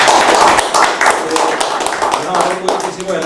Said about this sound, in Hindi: आप खुद के लिए ताली बजाएं